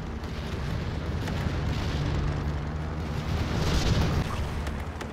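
A bombing run and artillery explosions in the Final Assault VR video game roar as a dense, sustained wash of rumbling blasts, loud and close, swelling slightly near the end without any clear pauses.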